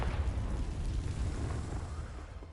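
A Confringo fire spell blasts in Hogwarts Legacy, a loud, sustained explosive rumble with heavy low-end boom that trails off slowly over a couple of seconds.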